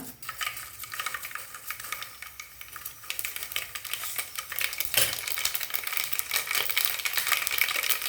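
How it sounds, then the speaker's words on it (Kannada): Mustard seeds sizzle in hot oil in a small tempering pan for sambar, giving a fairly faint, crackling, popping fizz with an occasional light clink of utensils. "ಎಣ್ಣೆ ಹಾಕಿದ್ದೀನಿ ಸಾಸಿವೆ ಹಾಕೋಣ"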